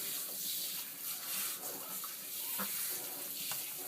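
Tap water runs steadily while shampoo is rinsed off a cat during grooming, a continuous close splashing stream with small shifts as the flow moves over the fur.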